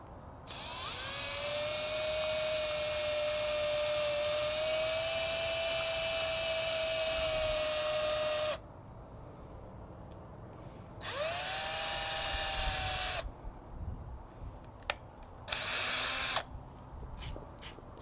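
Power drill boring holes into a wooden block to make a bee nest, a long steady high whine, then a shorter second run and a few quick bursts, close and clear with quiet gaps between.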